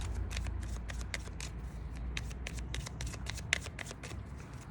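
Tarot cards shuffled by hand for a nine-card spread, a steady run of quick riffling flicks and soft slaps, close and continuous, with no talking.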